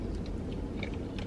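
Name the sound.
chewing a Taco Bell breakfast burrito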